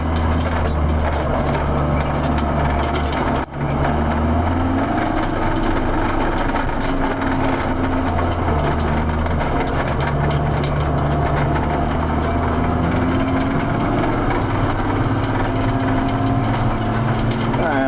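A 7410 engine runs steadily after an in-frame rebuild, a continuous low diesel drone with a faint higher whine, holding even throughout with one brief dip near the start.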